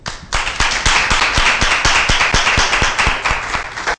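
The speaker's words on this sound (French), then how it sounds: "On va l'applaudir" Audience at a music and variety show clapping in a steady rhythmic beat, sharp regular claps close and loud, lasting several seconds before cutting off abruptly.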